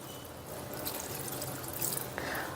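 Water is poured steadily into a pot of Punjabi-style sarson ka saag (mustard greens) with ginger, garlic and green chillies, a continuous close splashing gush that is loud and unbroken.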